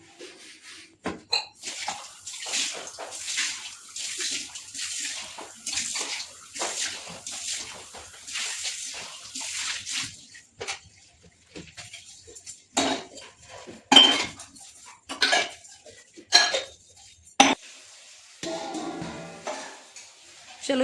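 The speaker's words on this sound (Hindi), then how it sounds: "चलो ये बर्तन तो मेरे धोते रहेंगे" Dishes, pots and cutlery being washed by hand at a home sink with running water, continuous clattering and clinking of utensils, nearby and fairly loud, with sharper knocks toward the end and no talking.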